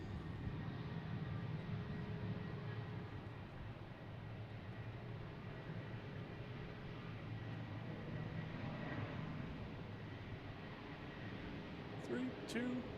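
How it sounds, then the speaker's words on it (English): A plane's engine at Tampa airport rumbles as a steady, distant broadband roar that holds through the whole stretch without rising or falling sharply. "I hear the engine"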